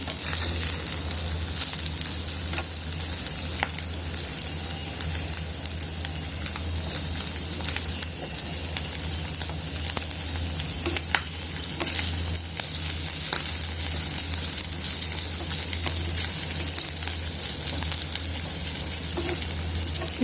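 Beef fries in a pan with a loud, continuous close sizzle and crackle and occasional stirring, steady throughout with no talking.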